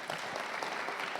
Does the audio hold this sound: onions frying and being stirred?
no